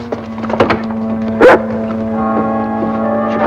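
A big dog gives a single short bark amid a sustained musical score and some soft knocks in an old western TV drama scene.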